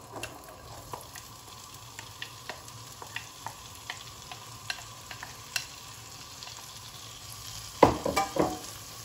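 Onion frying in butter in a pan for a savory crepe filling, soft crackling sizzle with scattered light pops, then a louder burst of stirring and sizzling near the end.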